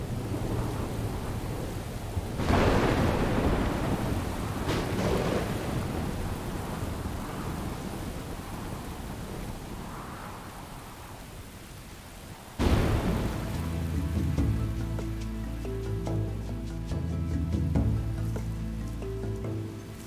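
Heavy rain pours down steadily while thunder rumbles, with a loud crack and rolling boom partway through that lingers over the downpour.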